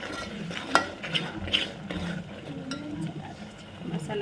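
Mutton masala sizzles steadily in a pan as the spiced meat fries, with a low continuous hiss and occasional clinks of a spatula against the pan, fairly close.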